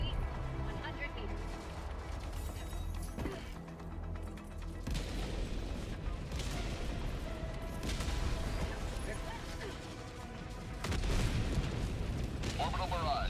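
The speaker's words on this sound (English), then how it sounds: "Orbital barrage incoming." Heavy orbital barrage explosions in Helldivers 2, deep booms and rumbling impacts rolling in over several seconds alongside mechanical clanking, with voices talking over the bombardment.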